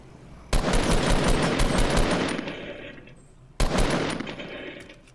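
Fortnite battle royale gunfire sounds as a long sustained burst of rapid automatic shots, then a second burst that starts abruptly, loud and close, with no talking.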